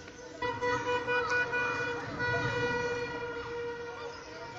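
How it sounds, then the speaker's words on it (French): Car horns honk repeatedly in a busy street during celebrations after Algeria's win, several long overlapping toots sustained at moderate distance with traffic noise underneath. "Écoutez les klaxons."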